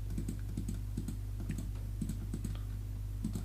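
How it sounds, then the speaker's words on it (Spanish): Close, light typing on a computer keyboard, a steady run of quiet key clicks in small clusters over a constant low hum, with the Shift key held down throughout. "siempre vamos a mantener apretada la tecla Shift"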